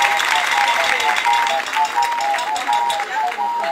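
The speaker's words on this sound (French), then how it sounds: "Je voudrais qu'on applaudisse très fort." A crowd at a tribute gathering in Dodougnoa applauds loudly after a speech, sustained clapping with a melodic tone and voices running underneath.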